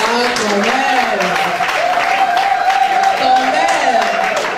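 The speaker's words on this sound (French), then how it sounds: "Il y a une table qui applaudit" Scattered applause from one table at an African arts gala, steady clapping heard under a prominent voice speaking or singing over it throughout.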